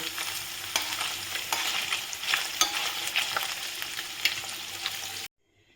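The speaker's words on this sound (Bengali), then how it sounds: "পনিরটাকে আমি হালকাভাবে ভেজে তুলে নেবো" Paneer frying lightly in a pan, a steady close sizzle broken by regular scraping stirs, ending in sudden silence.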